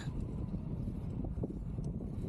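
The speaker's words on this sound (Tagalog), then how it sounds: "Sobrang lakas ng hangin eh." Gusty wind at the Hudayriyat cycle track roars across the microphone on an outdoor ride, a steady, heavy low-pitched buffeting that never lets up.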